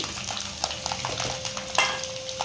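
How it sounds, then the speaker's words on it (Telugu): Garlic frying in a little oil in a pan, a soft steady sizzle with light stirring scrapes, close and continuous with no voices. "కొద్దిగా ఎల్లుల్లిపాయలు వేసుకోండి ఆయిల్లోని కొద్దిగా వేయించుకోవాలండి"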